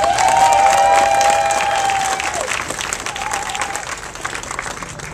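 An audience at a civic launch event in Sacramento applauds in a dense, loud wave of clapping that slowly fades. A sustained feedback-like tone from the public address system sounds at the start.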